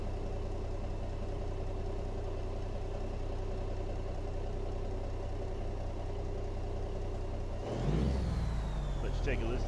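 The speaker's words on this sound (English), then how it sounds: "Go ahead and fire the truck up." A Peterbilt 388 wrecker truck's engine idles steadily with a deep, continuous rumble, then a short burst of louder revving or air release rises near the end.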